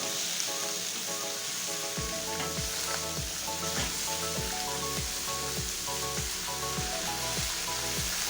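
Chayote and carrot stir-frying in a hot pan give a loud, dense, continuous sizzle close up, with a quick run of regular scraping stirs through most of it and no voices.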